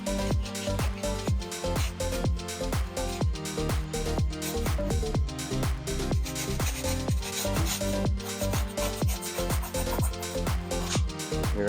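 Stiff brush scrubbing a dirty old tire on a Jeep Gladiator, a steady rapid back-and-forth rasping that continues close and loud without pause.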